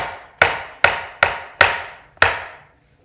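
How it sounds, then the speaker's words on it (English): Mushrooms are chopped with a knife on a cutting board, five sharp, evenly spaced knocks about every half second, each ringing out briefly, close and alone. "Then I want to chop up some mushrooms."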